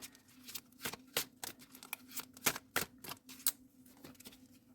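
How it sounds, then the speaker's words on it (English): Stiff, rigid cards are shuffled by hand in a quiet room, a run of sharp irregular riffling snaps and clicks spread across several seconds. "These cards are a little harder to shuffle. They're very rigid."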